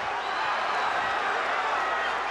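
Arena crowd roaring and cheering at the Ricardo Mayorga vs Fernando Vargas boxing fight, a steady, broad wash of noise throughout with a ringside commentator speaking over it.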